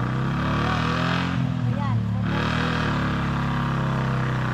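A loud, steady motor hum from a vehicle with no front-wheel drive being pushed uphill at a house building site, droning evenly throughout while people talk nearby.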